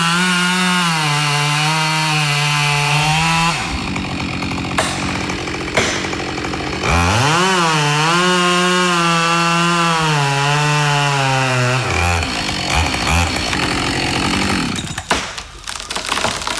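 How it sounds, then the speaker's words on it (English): Husqvarna 572XP chainsaw cutting wood in Australia, its engine screaming at high revs in long loaded cuts, bogging briefly between passes, loud and close with no voices. "when he's operating a chainsaw in Australia"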